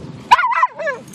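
A dog gives a short burst of a bark and yip, close and fairly loud, with a brief whine-like follow-on.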